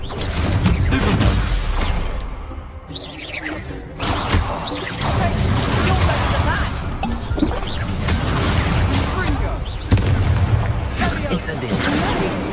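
A Harry Potter video game fight goes on steadily, with the Stupefy spell and other spells cast in a constant stream of booming, crashing impacts and sharp cracks. Game-character voices come and go over the noise.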